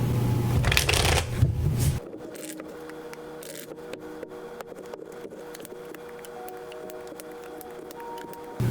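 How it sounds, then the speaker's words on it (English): Tarot cards being shuffled and riffled by hand, a rapid papery flutter up close, coming in bursts with quieter shuffling in between. "3 more shuffles and let's begin."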